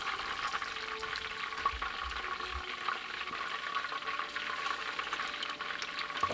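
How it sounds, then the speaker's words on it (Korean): Battered squid deep-frying in hot oil, a soft steady bubbling hiss with faint crackles throughout, fairly quiet and close, with no talk. "튀김옷을 입힌 오징어에 반죽을 묻혀 털지 말고 그대로 넣어주세요"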